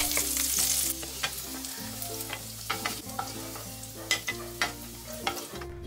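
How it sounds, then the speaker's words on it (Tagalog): Sliced hotdogs fry in oil in a pan, a steady crackling sizzle broken by repeated sharp spatters and the clinks of stirring, close and clear with no voices. "Magpainit muna tayo ng konting mantika dito sa kawali para iprito itong mga slice hotdog."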